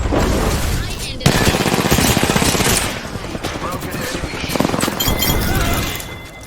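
Loud, dense automatic gunfire from the battle royale shooter Apex Legends, continuous bursts with sharp impacts and explosions running through nearly the whole stretch, with faint game sounds mixed in.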